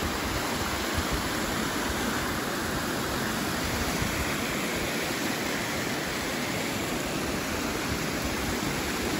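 Steady, dense rush of flowing water, like a creek running nearby, constant and loud with no pauses.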